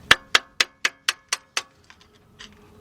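Seven sharp metallic hammer taps in a steady rhythm, close and loud, as a small hammer knocks at a rear freeze plug on the 5.7 engine of a 1977 Buick LeSabre, followed by a few faint clinks.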